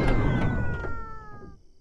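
A cartoon cat lets out a single drawn-out meow that slides downward and fades, loud and close, with no talking over it.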